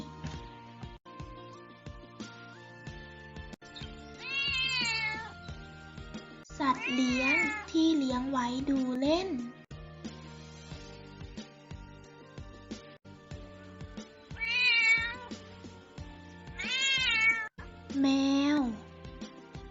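A cat meows several times, drawn-out wavering cries separated by pauses, while someone speaks between and around them.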